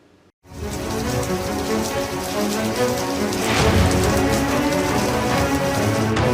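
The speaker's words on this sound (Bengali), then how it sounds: "তারপরেই নামলো ঝমঝমিয়ে বৃষ্টির সঙ্গে ঝোড়ো হাওয়া।" Heavy rain with gusty wind roars in after a short quiet start, a loud steady wash that swells slightly midway, with no voices.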